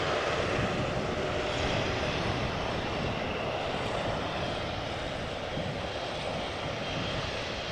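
Constant roar of an arriving Boeing 787-10 Dreamliner or 777-300 airliner at Amsterdam Schiphol, a broad, even engine rumble holding steady throughout with no speech.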